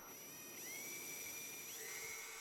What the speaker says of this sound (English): Drill 3 holes on each chopsticks.